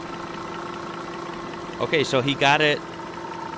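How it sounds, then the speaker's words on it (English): An Audi W12 engine idles with a smooth, even, low hum throughout, while someone speaks briefly over it. "It's idling, and it's doing pretty good."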